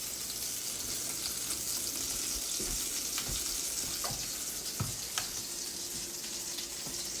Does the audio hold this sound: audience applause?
no